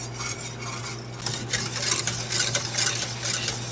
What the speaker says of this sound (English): it'll take it a couple of minutes to just sit here and whisk it